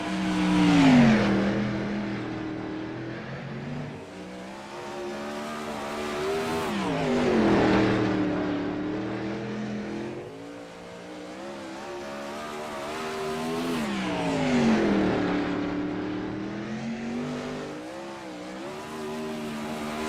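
A 410 winged sprint car circles a dirt oval on a qualifying lap, its engine roaring past in three loud swells as it nears and recedes each lap, with pitch rising and falling, no voices.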